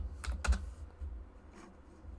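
Keystrokes on a computer keyboard, a few quick clustered taps near the start and a softer pair later, close and fairly quiet over a low background hum.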